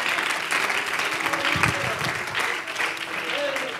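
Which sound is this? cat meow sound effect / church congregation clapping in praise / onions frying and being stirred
church congregation clapping in praise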